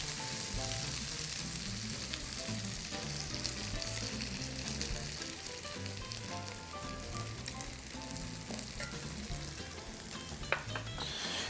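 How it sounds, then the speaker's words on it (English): Three whole eggs and three egg whites frying in a pan with mushrooms and vegetables for a frittata, a soft continuous sizzle with faint crackles throughout, fairly quiet, and a small clatter near the end. "now I'm gonna add my 3 whole eggs and my 3 egg whites"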